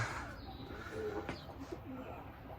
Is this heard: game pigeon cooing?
yes